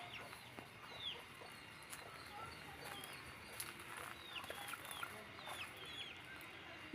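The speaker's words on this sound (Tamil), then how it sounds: "கோழிங்க இருக்குதுன்னு சொல்லுது" Chickens cluck in short scattered calls, fairly faint, within steady outdoor background noise near a fruit garden.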